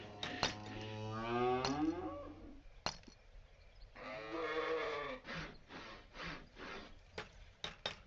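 A sheep farm in the medieval trading game Patrician 3 gives out farm animal calls, long mooing and bleating cries followed by shorter calls and wooden knocks, clear and close, with no talking.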